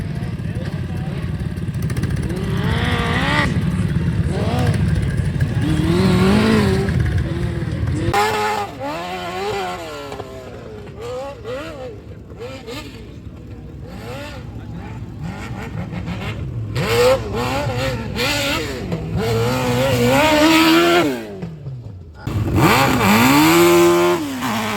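Homemade single-axle race vehicle with a 150 hp engine at an Einachser race in Neuheim, Switzerland, revving and droning loudly with rising and falling pitch throughout, while an announcer talks over it.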